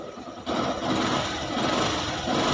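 A Yamaha YTX 125 motorcycle engine fitted with a Keihin PWK carburetor and an iridium spark plug runs steadily nearby, holding a loud, even hum after a softer first moment.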